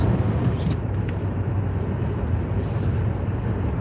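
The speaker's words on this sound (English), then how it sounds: "This truck's like on my ass." A truck follows closely behind a car moving at about 50 to 55 mph on a road, its engine a loud, steady low drone mixed with road and wind noise, with a few brief hisses.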